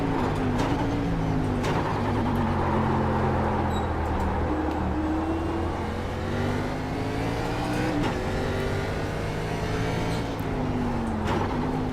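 A NASCAR stock car in a racing simulation at Watkins Glen drones on continuously, its engine pitch sliding down and climbing again as it brakes and rolls through corners, loud and close throughout.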